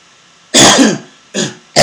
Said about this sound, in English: Oh my god, coughs.